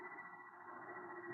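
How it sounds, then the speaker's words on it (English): In a 1955 radio drama, generators build up power as a steady, faint electrical hum with a low drone underneath, holding constant without breaks. "The sound you hear is our generators here, building up power to supply the motor by remote control."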